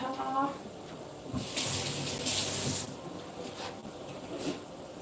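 Water poured into a cooking pot while preparing fish stew, a bright splashing gush that swells in the middle and tapers off, heard under someone talking at home.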